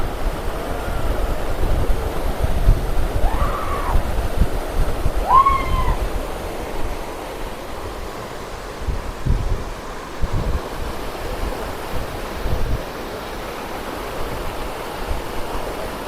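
Steady rushing water from the Gandahati waterfalls fills the scene, loud and continuous, with gusts of wind buffeting the microphone and a couple of brief high chirps early on.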